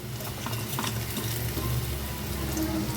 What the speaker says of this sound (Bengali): আমি একটু লাল লাল করে আলুগুলোকে ভেজে নিয়েছি